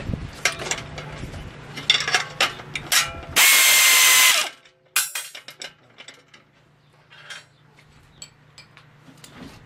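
Ratchet wrench tightening the bolts of a tilting wind turbine assembly, several bursts of quick close clicking with a loud burst of noise partway through.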